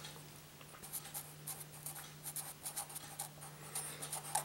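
Chalk or marker strokes on a board while maths facts are written, a quiet run of short scratchy taps and squeaks over a low steady hum, no voice.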